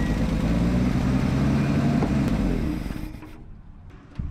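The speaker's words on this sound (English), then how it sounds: "Just sitting here idling." A 1965 Ford F100 farm truck engine, long abandoned, idles with a steady low rumble that stays loud for about three seconds before fading quieter, with a faint knock near the end.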